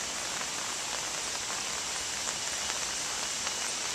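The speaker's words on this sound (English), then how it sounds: "However, it is pouring rain." Heavy tropical rain pours steadily in Jamaica, a dense, even hiss with scattered close drip patters, constant throughout and with no voices.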